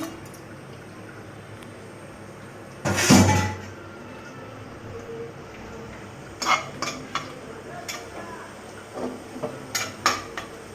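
Green chili paste hits hot oil with a sudden loud burst, then a low sizzle carries on under a run of clinking spatula taps and scrapes against the pan, close and clattery toward the end.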